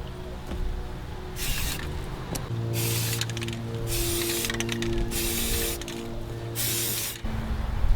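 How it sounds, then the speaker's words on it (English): Spray paint cans hiss in several bursts of about a second each while camo is painted onto a kayak through a homemade grass stencil, close and loud, with the can's mixing ball rattling between sprays. "Just a couple cans of spray paint, my little grass stencil that I made."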